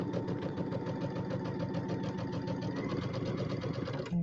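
A sewing machine runs continuously, stitching a quilt row together, a rapid even rhythmic chatter that is close and steady for several seconds before stopping.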